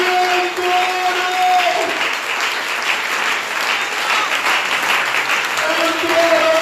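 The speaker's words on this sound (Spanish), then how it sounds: "Con un aplauso al que nos abrió el trono." Church congregation applauding together in a steady, dense wash of clapping, with a sustained organ or keyboard chord sounding underneath at the start and end.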